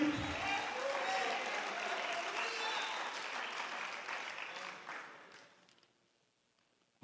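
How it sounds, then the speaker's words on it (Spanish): A congregation applauds during a church sermon: dense, close crowd clapping that holds steady for several seconds, then thins and fades to near silence at the end. "Den un aplauso al Señor Jesucristo."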